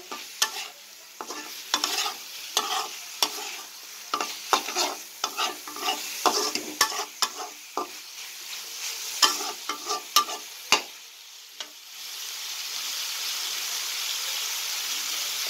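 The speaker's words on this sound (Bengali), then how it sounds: "কষিয়ে নেব এটাকে আমি, যাতে তরকারিটা ভালো আসে, ভালো হয়।" Dried loitta fish and eggplant being sautéed with fried garlic in a pan, a soft sizzle broken by repeated scraping stirs in an uneven rhythm, then a steady hiss once the stirring stops.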